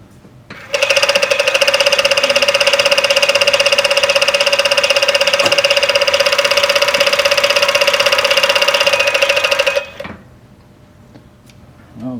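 An industrial serger from Alibaba runs steadily for about nine seconds, giving a loud, even mechanical whine with fast ticking, then stops abruptly and leaves near silence.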